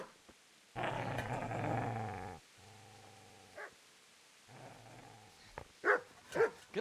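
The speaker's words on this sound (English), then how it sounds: "Get away, you mutt!" A dog growls in the medieval video game Kingdom Come: Deliverance, a long rough snarl followed by shorter growls and a few sharp yips and barks near the end, close and loud with no speech.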